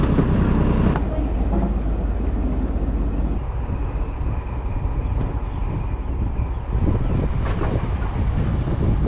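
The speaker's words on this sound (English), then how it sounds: "the steam train comes." A steam train pulls into a station on the Keighley and Worth Valley heritage railway during a 1940s weekend, with a steady loud rumble of rolling stock, wheel and rail noise, and brief squeals over about nine seconds.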